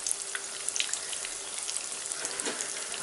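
Eggplant slices frying in oil for eggplant parm, a constant close hiss of sizzling with scattered crackles and bubbling pops, no speech.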